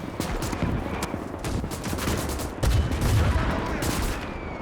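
A mortar carrier in a 1920s Winds of Iron mech-battle game fires amid dense, continuous battlefield gunfire, with a heavier thump partway through and layered shots and explosions throughout.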